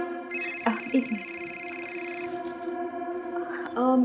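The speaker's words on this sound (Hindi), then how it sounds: "तुम्हारा फोन बज रहा है" A phone rings with an electronic melodic ringtone, steady tonal notes playing close by with no talking.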